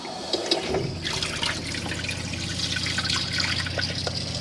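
Hot water runs steadily from a tap into the washroom basin of a Chausson FirstLine 788 motorhome, a close continuous splashing flow with a faint pump-like hum, no talking.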